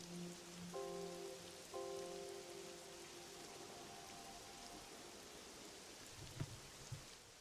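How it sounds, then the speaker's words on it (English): Rain falls steadily in the video game Pokemon Pokopia, a soft constant hiss throughout, with brief tonal game sounds early on and a couple of low thumps near the end. "It's pretty satisfying watching the rain fix up all the ground and stuff."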